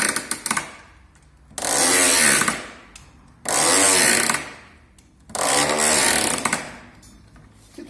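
Three loud bursts of a power saw scoring across a wooden board for a vertical beehive frame divider, each lasting about a second and a half with brief quiet gaps between, no talk.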